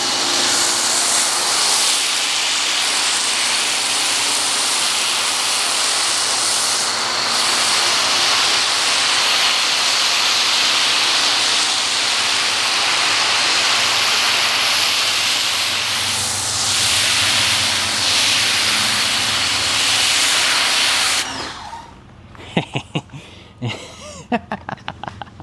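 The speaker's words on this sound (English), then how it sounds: "Next up, the Quiver Foam Cannon, Ryobi Automotive Pressure Washer. This is the main event. So, let's see what it can do." A Ryobi 1.8 GPM automotive high-flow pressure washer fitted with a Quiver foam cannon sprays with a loud, steady hissing rush for about twenty seconds, then cuts off, leaving a few brief clicks and sputters.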